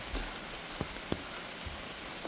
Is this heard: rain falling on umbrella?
yes